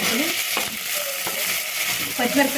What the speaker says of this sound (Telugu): ఇప్పుడు కొంచెం కరివేపాకు, పచ్చిమిరపకాయ